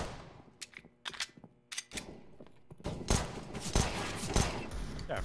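Counter-Strike: Global Offensive gunfire on the Train map: scattered sharp single shots at first, then a sustained loud burst of rapid fire, with players talking over it.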